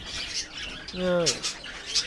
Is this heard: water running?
no